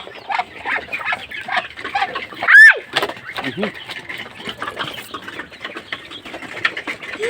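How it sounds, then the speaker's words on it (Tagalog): Chickens cluck and squawk close by while being fed, amid scattered talking, with one sharp rising squawk standing out briefly. "Pinapakain pa lang po namin yung mga manok."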